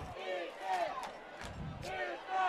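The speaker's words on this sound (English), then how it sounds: "Crowd yells out defense here at Hawk Stadium" Stadium crowd at a high school football game at Hawk Stadium yelling chanted calls of defense, distant massed voices rising and falling in rhythm, with a commentator talking over them.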